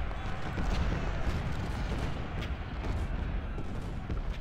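Artillery firing canister shot in a Civil War battle game rumbles in dense, continuous volleys, loud and booming throughout with no pauses.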